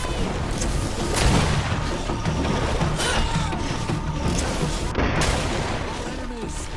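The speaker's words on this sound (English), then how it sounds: "Watch out! Grenade!" Greedfall battle noise fills the scene with dense, continuous clashing and crashing that suggests a grenade blast. No single clear explosion stands out. Voices shout over the din.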